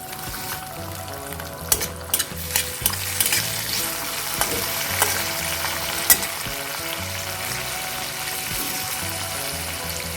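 Tomatoes and green chilies sizzling in a pan while being stirred, continuous frying hiss with repeated scraping and clinking of a spoon against the pan, close and steady with no voices.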